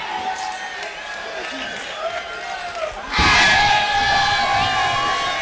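A big crowd at a professional boxing match in Laredo, Texas roars into loud cheering and shouting, rising sharply after a quieter stretch of murmur and staying strong to the end.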